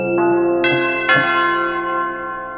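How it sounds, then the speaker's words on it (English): Chime voice on a Cantorum Duo Plus organ rings out in three bright, bell-like struck notes in quick succession, each sustaining and overlapping as it slowly fades, clear and close with no speech. "with the chimes, they encompass the entire 61 keys, so you can go fully crazy with the chimes here."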